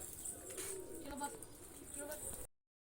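Pigeons coo nearby in soft, repeated rolls, with human speech heard over them, before the sound cuts off abruptly.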